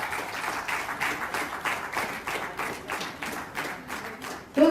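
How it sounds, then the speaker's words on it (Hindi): Audience clapping at an award ceremony honouring athletes in Jharkhand, steady moderate applause with rhythmic claps throughout and a sharper louder burst right at the end. "तालियां जोरदार हो।"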